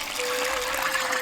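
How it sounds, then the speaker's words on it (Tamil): Water gushes from a vessel onto dried corn kernels in a pot, set to soak for homemade corn powder, a brief, steady close pour with no talk. "நல்லா காஞ்ச மக்காச்சோளத்தை ஒரு சட்டியில போட்டு தண்ணி ஊத்தி நல்லா ஊற வச்சிடலாம்."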